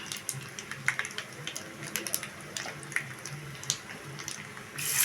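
Lemon juice poured into a hot pan in a home kitchen, a soft wet trickle and faint sizzling with scattered small clicks, fairly quiet throughout, rising slightly at the end.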